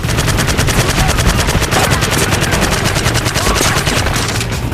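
Rapid continuous machine-gun fire from a World War II shooter game, a dense unbroken stream of loud shots during house-to-house fighting against German troops.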